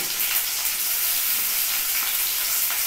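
Chopped ginger hits hot oil in a pan and sizzles steadily, a close, continuous bright hiss of frying with no talk over it.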